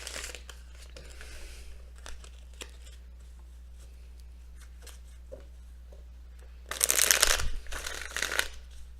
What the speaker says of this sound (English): Already pre-shuffled these, so I'm only going to shuffle these a little bit.